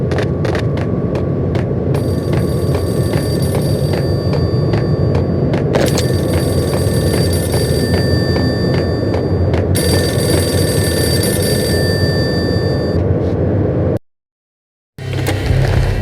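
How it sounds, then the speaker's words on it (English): A payphone in Max Payne rings in a repeated electronic trill, loud and close, with bursts separated by short gaps over a low, booming game ambience. "Payphone started to ring."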